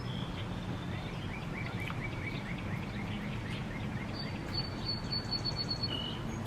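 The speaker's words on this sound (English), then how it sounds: "Listen to all the birds." Springtime birdsong in Indiana: several birds chirp and trill at a moderate distance, with repeated short tweets and a brief run of quick high notes, all over a steady low outdoor hum with no talking.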